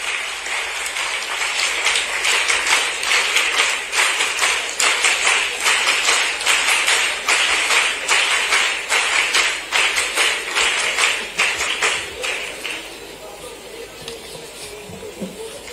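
An audience applauds to welcome Chief Minister Mohan Yadav at a World AIDS Day event in Indore, with sustained, loud clapping from a large crowd that fades slightly toward the end.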